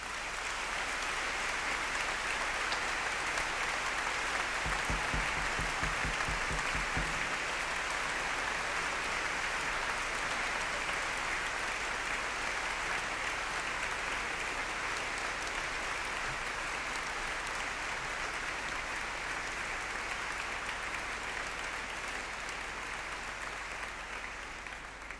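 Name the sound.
audience applause at dance festival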